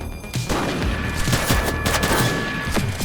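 Loud, close gunfire in The Precinct, a police video game, cracks out in a rapid volley of shots, with individual reports punching through a continuous roar of firing.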